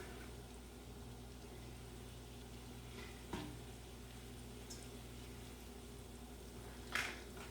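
Garlic sizzles steadily in a hot pan, a soft continuous frying hiss with a couple of brief clinks from the pan, no talk.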